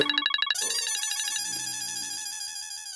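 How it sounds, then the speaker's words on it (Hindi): A phone rings with an incoming call, a bright electronic ringtone that starts with quick repeated beeps and then carries into a sustained tonal melody, loud and close with no talking over it. "लो, दीदी का ही फोन आ गया।"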